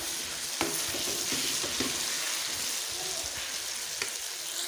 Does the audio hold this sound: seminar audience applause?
no